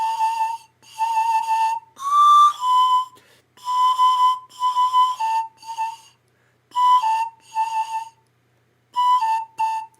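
A pan flute played with lip tonguing gives a run of short, bright, breathy notes in separate bursts and brief phrases with gaps between them, clear and close, with no voices.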